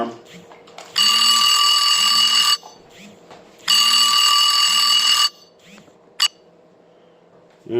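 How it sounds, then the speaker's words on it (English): A loud electronic alarm rings in two long, steady bursts separated by a pause, with a short chirp afterward, while soft beeping tones and occasional voices sit underneath. "and there's my alarm."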